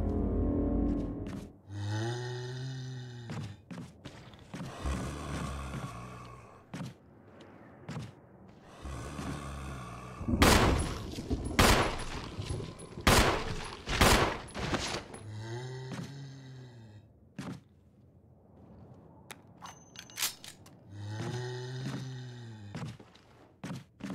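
Gunfire in Resident Evil HD sounds as a cluster of loud, sharp shots and thuds mid-clip, framed by groaning, moaning creature-like game voices before and after.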